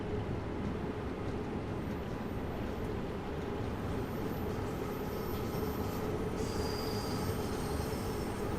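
Bakerloo line tube train in Train Sim World 2, a London Underground service near Paddington, rumbling steadily with dense low-frequency roar and faint wheel squeal, loud and continuous throughout with no talking.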